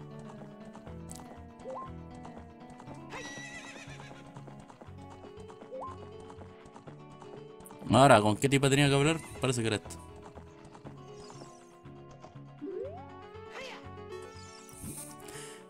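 A horse in the video game Ocarina of Time, with steady clip-clop hoofbeats throughout and a loud neigh in the middle, beneath game music and a person speaking Spanish.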